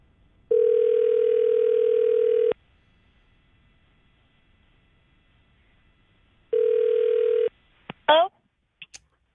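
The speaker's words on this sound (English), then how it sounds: "Let me try the cell phone now. All right, here we go. I'm calling the cell phone now." A call to a cell phone rings back through the line as two loud, steady ringback tones, each about two seconds long, separated by a long silence, followed by brief clicks and a short voice.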